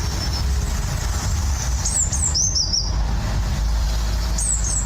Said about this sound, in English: Is that a lorry going past?